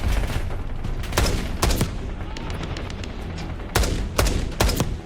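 Gunfire in a Black Ops 6 video game battle, with helicopter-borne weapons firing on soldiers: repeated loud bursts of shots in clusters over a constant rumbling din.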